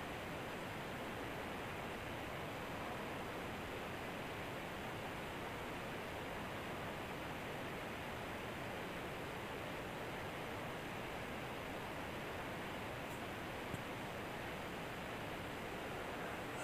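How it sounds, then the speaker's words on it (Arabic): Onion sautés in a pot for couscous with a continuous, even sizzle like a soft hiss of frying. It stays steady and fairly quiet throughout, with no voices. "ففي الوقت اللي البصلة كتشحر كنحركو باش ما تحرقش"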